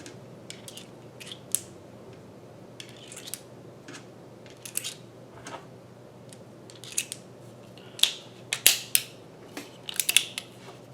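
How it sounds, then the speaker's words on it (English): Ruger GP100 Match Champion .357 Magnum revolver dry-fired indoors, its trigger and hammer giving a run of sharp metallic clicks, sparse at first and then quicker and louder toward the end, with no voices. "I'm going to show you what the trigger pull's like now."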